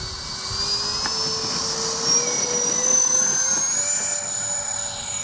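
An X-FLY J-65 RC model jet engine roars steadily during takeoff, a loud continuous turbine whine with a slowly rising pitch throughout.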